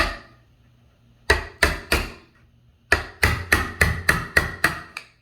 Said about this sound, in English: you can always use a chisel to chisel the piece out